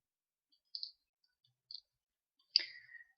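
Mouse clicks while modeling in Autodesk 3ds Max: a few sharp, close clicks spaced apart, the last one a brief double click with a short rattle, with near silence between them.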